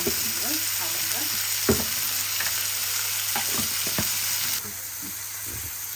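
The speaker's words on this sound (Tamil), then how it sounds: "ஒரு 2 டேபிள் ஸ்பூன் ஆயிலில் தான் இந்த வெங்காயத்தை வறுத்து கொண்டிருக்கேன்" Onions and dried red chillies fry in about two tablespoons of oil for a Sri Lankan prawn and aubergine fry, giving a steady close sizzle with occasional stirring clicks and scrapes, slightly quieter near the end.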